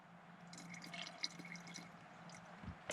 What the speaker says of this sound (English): I'm just adding a little bit of distilled water